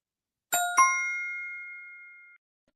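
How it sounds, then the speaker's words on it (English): A small bell dings twice in quick succession, clear and close, then its bright tone rings out and slowly fades over about two seconds against silence, marking a correct answer on a basketball talk show. "Little bell for correct"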